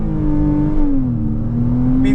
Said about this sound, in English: brake pedal to the floor, flat on the accelerator,